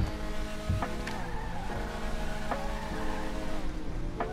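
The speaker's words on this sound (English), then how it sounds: "This is just gonna be one of the biggest burnouts." A car in GTA Online performs a long burnout, with steady engine roar and tyre noise held continuously at a loud level, punctuated by a few sharp transient bursts.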